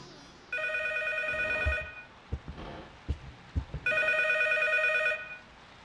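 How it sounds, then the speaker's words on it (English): Telephone ringing in the horror game P.T., two long electronic bell rings separated by a pause filled with soft, irregular thuds, fairly quiet and alone. "solve the puzzle, and get the phone to ring"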